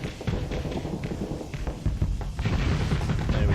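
Missile volley launched from a spaceship in the space combat game Starsector, a dense run of thumping launches and impacts rolling over a low rumble, with no talking.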